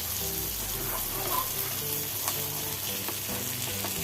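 Pomfret fish fries in a pan with curry leaves, a loud, dense sizzle that holds steady throughout, with a busy bubbling crackle close at hand and no voices.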